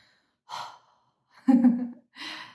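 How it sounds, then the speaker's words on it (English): Slow, close breathing: a soft breath, then a fuller, voiced sigh-like exhale, then another airy breath, spaced about a second apart against silence. "Being able to simply breathe in, breathe out."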